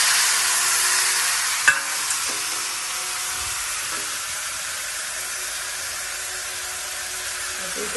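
Chicken pieces dropped into a pan of browned onions set off a steady, fairly soft sizzle and hiss of frying, with a couple of small knocks near the start.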